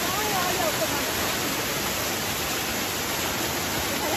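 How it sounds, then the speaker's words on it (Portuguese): A waterfall in the Serra da Aratanha hills of Pacatuba, Ceará, roaring as a steady, dense, loud wash of falling water that stays unbroken throughout, close by and alone. "Aproveitei para tomar aquele belo banho na cachoeira que se encontrava"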